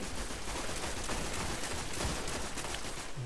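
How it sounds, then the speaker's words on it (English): Weapons firing in the game Destiny, a dense continuous burst of rapid gunshots at close range, loud and unbroken across the short stretch. "We're shooting each other."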